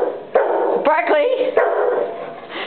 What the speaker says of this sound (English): You're barking back at yourself.